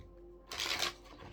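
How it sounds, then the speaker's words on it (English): Tarot cards are shuffled in one brief, papery riffle that rises out of near silence and quickly fades. "I shuffled the cards"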